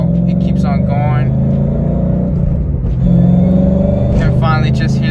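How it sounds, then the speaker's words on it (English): A Roushcharged supercharged Ford Mustang drives past with a deep rumbling exhaust and a high supercharger whine, loud and close. Someone talks over the engine at the start and again near the end. "just hear the exhaust and that supercharger whine"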